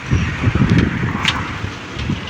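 Steady wind gusting across the microphone outdoors at a fishing spot as rain clouds gather, a low rumbling roar with brief rustling bursts, fairly loud and continuous.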